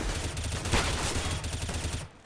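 Rapid automatic gunfire from a tactical shooter video game during a round retake, sprayed in a long continuous burst with loud, dense cracks that cut off near the end.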